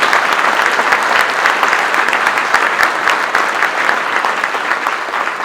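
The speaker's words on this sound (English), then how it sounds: "Would you join me in giving all of those folks and everybody else who has worked on this event a round of applause?" Sustained applause from a large audience at a conservative political event, steady and dense throughout with no voices standing out.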